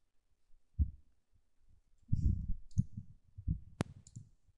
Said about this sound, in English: and just click Next.